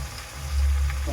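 Spicy hotel-style chilli chicken sizzling in a pan, with a louder surge of frying partway through as the pieces are stirred; steady, close and with no talking.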